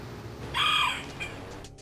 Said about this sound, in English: Ah, there's a cockerel again.